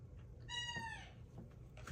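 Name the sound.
chicken or rooster clucking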